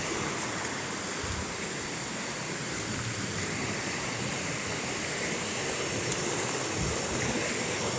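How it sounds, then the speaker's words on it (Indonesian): A waterfall roars as a constant broadband rush of falling water, steady and moderately loud throughout with no voices over it. "Saatnya kita akan nyuting air terjun."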